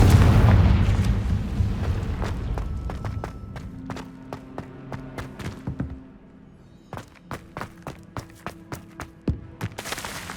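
A Confringo fire spell in Hogwarts Legacy sets off a loud booming blast at the start, its rumble fading over several seconds into a string of sharp cracks, thuds and sputtering pops.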